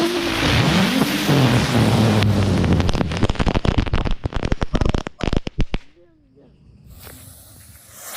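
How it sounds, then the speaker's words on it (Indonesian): A pack of lotus flower spinning firecrackers goes off in a loud, dense crackling burst with rapid irregular pops, thinning out before ending, followed by quieter outdoor background sounds. "ini dia yang pertama akan kita nyalakan satu pak petasan bunga teratai atau petasan gangsing"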